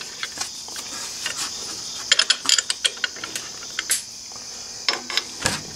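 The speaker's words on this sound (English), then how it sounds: "Take my ratchet and just snug them up a little bit." Ratchet snugging flathead bolts on a Camel ADV brace for a Honda Africa Twin CRF1000L foot peg, giving a run of quick close clicks in uneven bursts alone, with small metallic taps between them.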